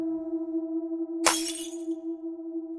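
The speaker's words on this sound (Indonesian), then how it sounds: "Tiba-tiba suara kaca pecah yang sangat mengejutkan." Glass shatters in one sudden loud crash, a bright burst with a tinkling tail lasting under a second. It cuts across a steady droning hum and is followed by the hum alone, with no voices.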